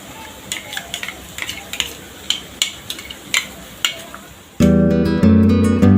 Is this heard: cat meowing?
no